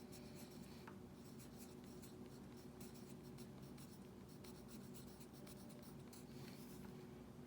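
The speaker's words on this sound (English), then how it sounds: "So I'm going to write down the definition." A pen or pencil scratching on paper as a definition is written out by hand, a quiet, steady run of short strokes over constant low background hiss.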